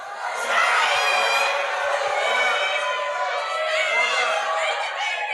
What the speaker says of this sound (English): Let's take a listen how and see how the crowd will react